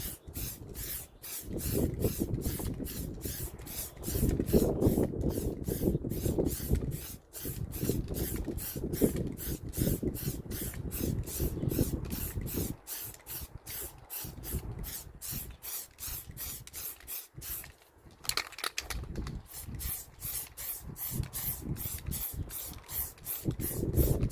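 A spray gun paints the back hatch of a 1996 Geo Tracker after rust treatment, firing a rapid series of short hissing bursts up close in long runs, separated by brief pauses.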